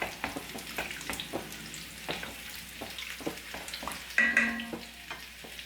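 A utensil scraping and stirring through rice in a pot of chicken majboos in repeated strokes, with a soft sizzle underneath and a brief louder clatter near the end.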